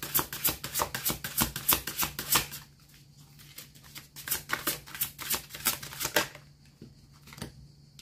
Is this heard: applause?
no